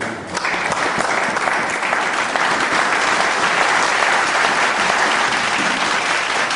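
A church congregation in Paris applauding the Lord during a sermon, with loud, dense, continuous clapping from many hands throughout, unbroken and close, with no talk over it.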